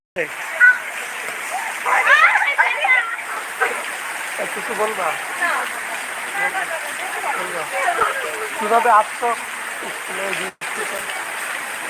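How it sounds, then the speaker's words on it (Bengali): Heavy rain pours and splashes over a flooded school field in Bagerhat, a steady broad hiss of falling water running throughout, close and loud, with people talking over it. "সে মাঠে এখন প্রচন্ড পানি এবং এখনো প্রচুর বৃষ্টি"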